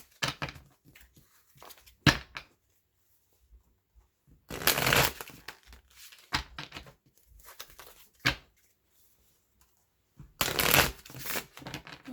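Wildwood Tarot cards being shuffled in several bursts of riffling and crisp card slaps, close up, separated by quiet gaps, with no talking.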